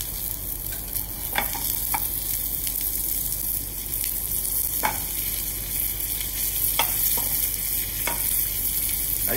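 Bonito sears in a hot pan for katsuo tataki, giving a steady, close sizzle with occasional sharp crackles and light scraping as the fish is turned. No one speaks.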